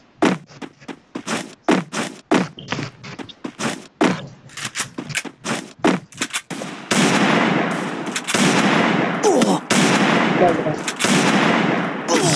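Gunfire from the video game Free Fire: rapid sharp shots in quick irregular bursts, then a sustained loud stretch of continuous automatic fire, close and prominent.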